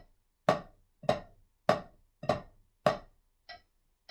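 A drum flam exercise, the second line played with alternating accented sticking: five sharp paired strikes at an even, moderate pace, followed by a softer sixth hit, close and clear with no talking.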